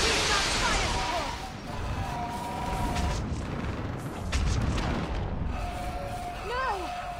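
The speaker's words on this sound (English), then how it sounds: "We've got fire support!" Artillery fire support booms through a Mass Effect 3 battle, dense explosive rumble and bursts filling the scene continuously, with shouted voices over the combat.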